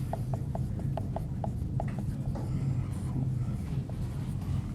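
A marker or chalk taps and scratches across a board as a math equation is written out, in short regular strokes over a steady background hum.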